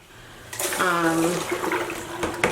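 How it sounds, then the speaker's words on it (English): Tap water runs steadily while a dyed shirt is rinsed in a sink, a continuous splashing flow under a woman's speech for most of the clip. "I'm going to keep rinsing until the water runs clear"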